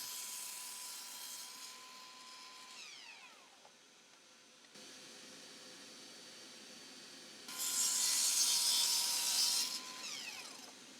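A miter saw cuts wood for a 3D wooden star: the motor whines up and spins down twice, with a loud, bright cutting stretch in the second pass, fairly close and without talk.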